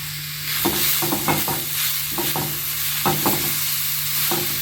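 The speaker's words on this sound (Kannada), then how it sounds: "ತೆಂಗಿನ ತುರಿನ ಸಹ ಸ್ವಲ್ಪ ಹುರ್ಕೋಬೇಕಾಗತ್ತೆ ಸ್ವಲ್ಪ ಹಸಿ ಘಮ ಹೋದರೆ ಸಾಕು" Grated coconut roasting in a pan with dal, a continuous dry sizzle broken by repeated scraping strokes of a spoon in an irregular rhythm, close and clear with no talking.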